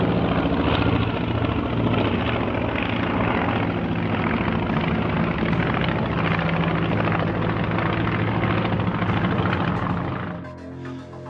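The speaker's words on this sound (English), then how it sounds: "The aircraft Mark 65 is owned by Alexandra Krylev, a recent World Advanced Aerobatic Champion" A loud, steady propeller engine drone from a Russian aerobatic aircraft holds throughout at close range, then eases off slightly near the end.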